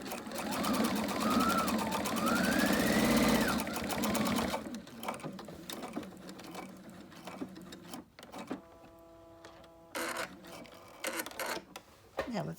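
A sewing machine stitches a quilt with a rapid mechanical hum for several seconds, then stops, leaving soft fabric rustles, handling sounds and a voice in the background.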